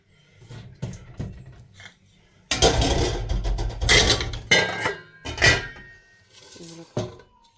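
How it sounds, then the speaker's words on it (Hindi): Dishes, pots and pans being washed by hand in a home kitchen, with metal clanks and clatters of cookware knocking together in irregular bursts, close and fairly loud, no talk. "ये बर्तन भी धो लूँ ताकि जान छूटे"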